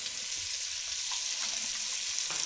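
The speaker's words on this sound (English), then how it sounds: "We're gonna add these right in, and they're going to saute, begin to brown in that flavor" Sausage sautés and browns in a soup pot, giving a steady, close hiss of frying that runs evenly throughout, with a few faint knocks and shifts beneath the sizzle.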